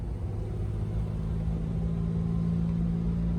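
Steady low rumble of a Jaguar car engine held at an even drone through a slow, smooth gear change, heard from inside the car without any speech.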